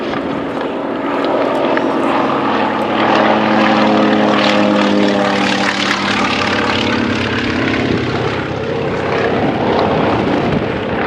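Antonov An-2 biplane's big radial engine and propeller at a vintage airshow, a loud, steady, throbbing drone that fills the whole stretch with no talk over it.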